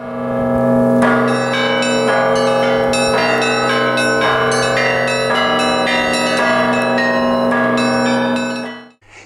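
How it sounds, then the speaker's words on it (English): Sixteenth-century monastery bell tower ringing, loud and close, with repeated overlapping strikes that leave a sustained, humming ring throughout before fading at the end. "The 16th century bell tower chimes every hour."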